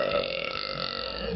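A person lets out a long, continuous burp lasting over a second, close and fairly loud, with no other voices over it.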